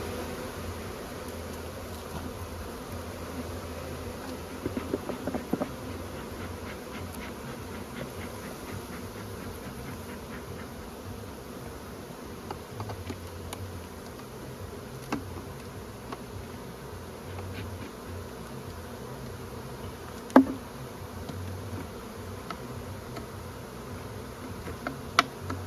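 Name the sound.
honey bees buzzing around an open beehive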